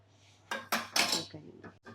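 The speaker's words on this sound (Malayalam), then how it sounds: "ചായ അരിച്ച് ലാസ്റ്റ് ഇതൊന്നും ഇങ്ങനെ പ്രസ് ചെയ്യട്ടോ" Tea being strained and pressed through a metal strainer in a home kitchen, a few sharp clinks and scrapes of metal against the cup in quick bursts, close and fairly quiet between them.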